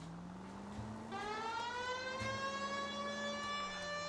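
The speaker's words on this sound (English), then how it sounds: "Turn on the siren and pull her over." Police car siren in the video game L.A. Noire switches on after a second and wails steadily over an engine hum, rising and holding a bright, piercing tone close and loud.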